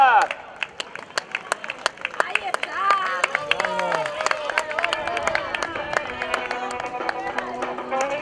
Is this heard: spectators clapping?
yes